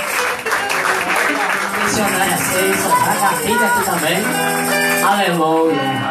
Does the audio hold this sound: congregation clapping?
yes